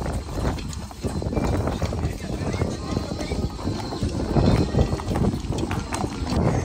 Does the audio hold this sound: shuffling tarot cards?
no